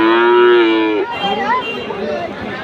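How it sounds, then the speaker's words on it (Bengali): A cross-breed heifer calf at a cattle market in Fasiladanga lets out a loud, close, drawn-out moo that breaks into shorter grunting lows, with faint market chatter behind. "এখানে আরেকটা চমৎকার বাছুর আছে"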